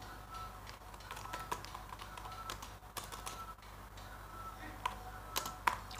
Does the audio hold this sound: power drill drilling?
no